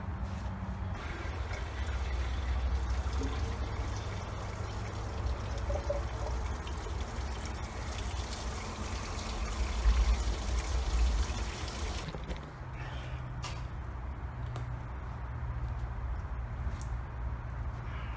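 Water from a garden hose being forced through the radiator of a 1994 Toyota pickup, a steady pouring and trickling flow that runs continuously, with a slight change in tone toward the end.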